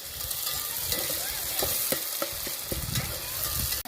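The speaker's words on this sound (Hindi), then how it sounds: "आलू पनीर की सब्ज़ी बना रहे, घी डाल रहे। टमाटर डाल दिया हमने।" Tomatoes hit hot ghee in a pan for an aloo paneer curry cooked outdoors in a village, giving a steady, close sizzle threaded with rhythmic scraping stirs and clicks, with no talk.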